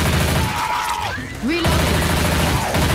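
Gunfire in Left 4 Dead 2 on the Snow Den map: loud, dense bursts of shots in rapid succession, with game voices and effects tones mixed in.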